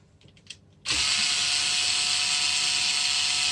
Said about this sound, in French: Avec la visseuse, on va dévisser les 3 vis de la base